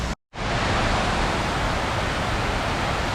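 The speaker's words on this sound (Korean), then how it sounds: "건물이 있던 그 자리 그대로에 이렇게 네 군데 싹 다 폭포처럼 물이 흘러내려가게 만들어 놓고" Water pours steadily into the World Trade Center memorial pools in New York, a dense, continuous roar like a waterfall that fills the whole span after a brief silent gap at the start.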